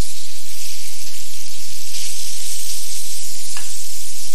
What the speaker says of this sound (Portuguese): você começa com as cascas, fritando as cascas na manteiga. E depois você joga o próprio camarão